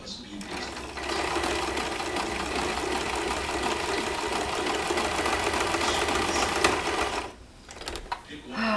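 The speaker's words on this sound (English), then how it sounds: "I'm just going to start zigzagging the edge of this letter" A sewing machine zigzag-stitches around the edge of a fabric letter, running in one long, steady, close mechanical whir before pausing briefly near the end and then starting up again.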